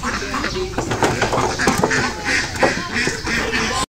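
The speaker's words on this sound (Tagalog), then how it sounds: "Ito naman po yung mga duck namin." Farmyard ducks quack loudly and close by in rapid, overlapping bursts throughout, a busy chorus of nasal calls.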